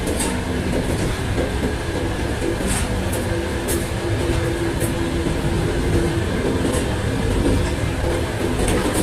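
A Samara to Bishkek passenger sleeper train in motion, heard from inside a carriage: a steady, close rumble with faint rhythmic wheel clatter and a few light metallic ticks, no voices.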